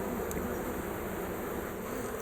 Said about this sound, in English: A nice lot of nice number of bees, a nice bit of nectar coming in.